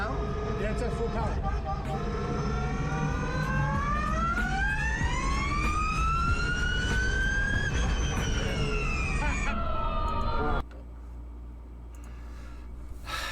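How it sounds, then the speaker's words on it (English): Rising and falling high-pitched mechanical whine of straight cut gears spinning and meshing at full power, sustained and loud for about ten seconds before cutting off abruptly, leaving a lower rumble behind. "That's what gears sound like spinning and meshing against each other at really high speed."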